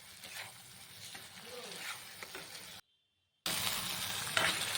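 Eggplant frying in spice masala in a pan, a soft crackling sizzle with scattered stirring clatter, briefly cutting out before returning louder and brighter.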